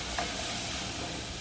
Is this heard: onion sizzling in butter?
yes